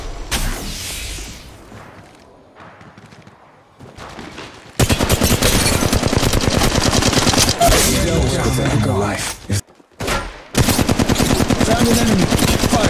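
Rapid automatic weapon fire from the mobile shooter Apex Legends Mobile, loud sustained bursts with brief pauses and a cutoff, preceded by quieter game ambience and whooshes.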